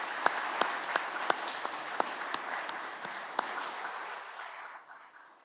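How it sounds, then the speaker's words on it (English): Applause fills a hall at a convocation ceremony, many hands clapping in a steady, moderately distant patter with occasional crisp single claps on top, gradually thinning and fading away near the end. "Please give them a round of applause and a big hug when you get off the stage."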